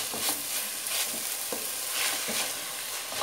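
Onions and tomatoes sizzle in a pan for a fish fry masala, with a steady hiss and the soft clicks of a spoon stirring now and then, close and alone.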